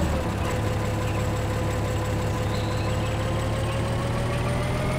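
A tractor engine idles in Farming Simulator 2013 during a sugar beet harvest, a steady low hum with an unchanging tone at moderate level throughout.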